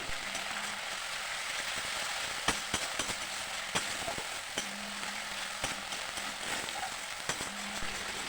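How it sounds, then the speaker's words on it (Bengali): Ginger and cumin paste frying in a wok for a vegetable shukto, giving a steady broadband sizzle with scattered sharp clicks and taps of stirring, close and continuous with no talk. "এখানে হলো আদা আর জিরে বাটাটা দিয়ে দেবো কড়াইতে।"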